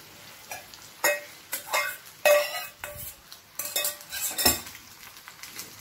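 A spoon scrapes and knocks against a pan as half a kilo of cooked rice is mixed into kalpuravalli rice, giving repeated close clinks and scrapes over a soft sizzle.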